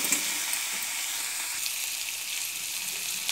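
Onions and curry leaves fry in a pan with a constant close sizzle and crackle throughout, with no voices.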